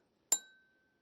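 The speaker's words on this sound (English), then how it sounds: "Just a little clink." Single light clink from tapping a plain, non-leaded drinking glass: one sharp, close strike with a short ringing tone that fades within about half a second, heard alone.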